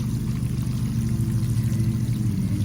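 Water pours onto newly planted alpine strawberry plants in a steady, close, low gushing stream that continues without a break, and no one talks.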